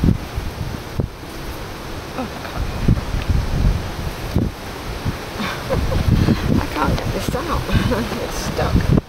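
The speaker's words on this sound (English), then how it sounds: "it's quite windy today" Gusty wind blows outdoors beside a cooking fire, a continuous rough buffeting roar with bursts against the microphone, while a person speaks intermittently.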